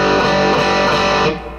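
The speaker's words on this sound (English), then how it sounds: "We're going to be playing the middle 2 strings on your guitar" Electric guitar played on the middle two strings through an amplifier with the mid control set between 10 and 2 o'clock, a sustained, slightly distorted chord ringing loud and close, then fading near the end.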